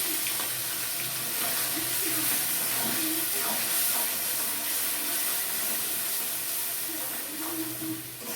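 Spice paste with tomato sizzles in hot oil in a home kitchen while a fish curry is being prepared. A loud, steady frying hiss fills the whole stretch without letting up.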